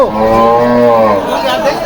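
A cow gives one long, loud, close moo lasting well over a second at a busy cattle market held before Eid sacrifice in Brahmanbaria, with faint crowd chatter behind it.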